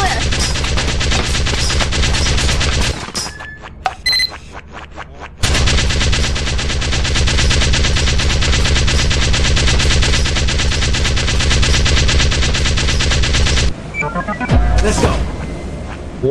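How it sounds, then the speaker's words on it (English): Sustained rapid gunfire in the video game Lethal Company, loud dense bursts continuing for several seconds, a brief break, then another long barrage, with players talking underneath. "Why were we getting shot at?"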